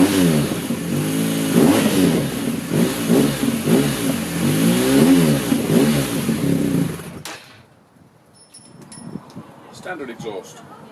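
A motorcycle with its standard stock exhaust revs loudly up close for about seven seconds in rising and falling bursts, then cuts off, leaving faint background noise and a few quiet chirps.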